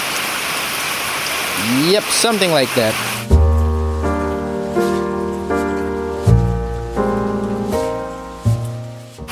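Rain falls outdoors in bad weather with a steady hiss, clearest at the start. It then continues under someone talking and some sustained tonal sounds.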